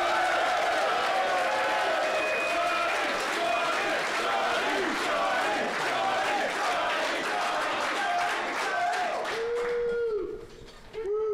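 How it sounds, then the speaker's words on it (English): Audience applause and cheering at the Legend of the Five Rings 2018 World Championship, a sustained round of clapping under a voice over the PA, tapering off near the end. "we need a big round of applause for the person who gave us an incredible finish to the event"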